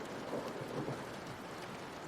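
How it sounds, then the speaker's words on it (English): A rain-soaked thunderstorm, with low rolling thunder rumbling under a steady wash of falling rain, faint and distant, with no voices. "in the omnipotent rumble of a thunder"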